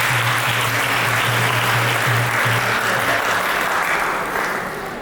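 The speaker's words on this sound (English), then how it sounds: "Give her a huge round of applause." Steady, loud applause from a temple audience at a Sunday feast lecture, continuous clapping that holds level and tapers slightly at the end, with no talk over it.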